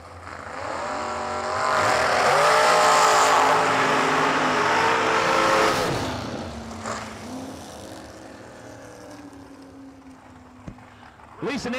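At a drag strip during a New Year Nationals event, racers including a T-Bucket Roadster launch and roar down the track, with the loud engine drone swelling, peaking and then fading into the distance before a sharp pop near the end.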